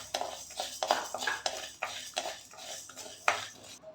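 Sago pearls roasting in ghee in a pan, stirred with a metal spoon, giving a quick series of close scraping and clinking strokes against the pan, with no talk.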